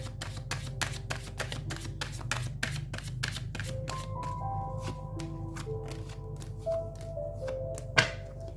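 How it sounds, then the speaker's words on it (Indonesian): Tarot cards are shuffled and drawn by hand in a quick run of crisp, snapping riffles and flicks, followed by slower single card slides and a sharp tap near the end. "Saya akan ambil beberapa kartu ya."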